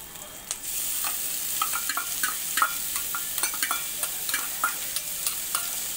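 Chopped onions frying in oil with ginger and garlic pieces, a bright constant sizzle with repeated spatula scrapes and taps against the pan, close and clear.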